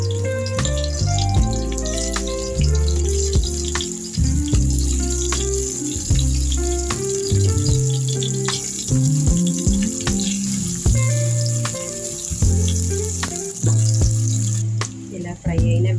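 Soaked bitter gourd pieces frying in a hot pan, a loud continuous sizzle with crackling pops and occasional clinks close by.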